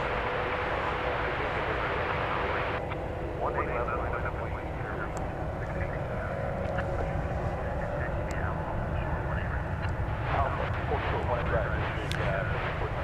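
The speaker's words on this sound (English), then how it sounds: "Flight 3885 going to Las Vegas is this one" Airliner on flight 3885 bound for Las Vegas at DFW Airport, a steady broad engine roar holding throughout at a distance, with faint voices present underneath.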